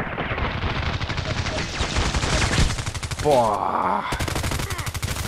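SCAR-L rifle gunfire in a first-person shooter video game, rapid automatic bursts of loud shots rattling continuously throughout, with a brief male exclamation partway through.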